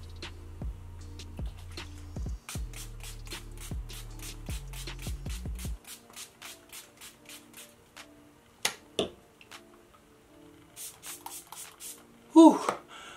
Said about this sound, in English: just spray it all over my face.